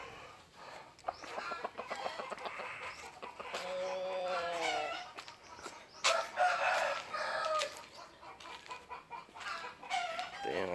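Talisayon fighting roosters in a rural province yard crow and cluck repeatedly, several drawn-out crows and sharp clucks overlapping, fairly close, with no talk.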